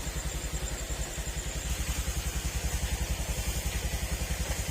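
A Honda motorcycle engine starts and settles into a quiet, even idle, its rapid low putter pulsing steadily and strengthening slightly after the first seconds.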